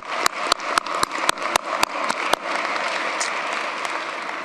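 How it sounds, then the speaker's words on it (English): Audience applause at a 2023 Fairfax County inauguration ceremony: a room of clapping hands with several sharp, close claps standing out at first, then settling into a steady, even patter that runs on without talk. "Let's give them a round of applause."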